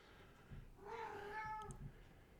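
A house cat meows, a drawn-out harmonic call that rises and falls over about a second, heard close and alone against quiet room noise.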